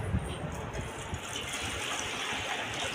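Soaked rice being washed in water for kheer produces a continuous close, hissing slosh of water with no pauses, filling the whole short stretch.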